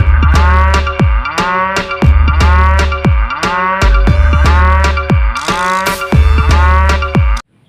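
A toy Vespa-style cow ride-on plays a loud electronic moo repeatedly, about six calls in steady rhythm with a musical jingle underneath, close and clear, ending abruptly.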